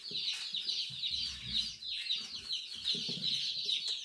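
Laying hens, meat birds and guinea hens cluck steadily and close by, with a constant chorus of high peeping and chirping throughout and scattered low clucks layered beneath.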